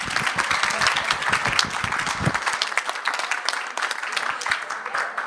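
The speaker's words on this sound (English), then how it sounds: "just massive round of applause for you all." Forum attendees in Helsinki give a round of applause, many hands clapping in a lively, uneven patter that thins slightly toward the end, moderately loud in the room.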